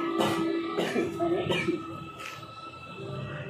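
A man with a cold coughs a few times, short hoarse bursts close to the microphone with some throat-clearing, amid faint room noise.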